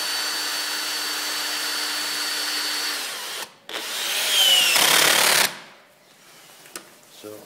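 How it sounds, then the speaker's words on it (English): Power tool drives an 8mm bolt into a table, a loud steady motor whine that holds for several seconds, stops briefly, then surges harder before cutting out, with quiet handling noises afterward. "Jason, if you can tighten it up"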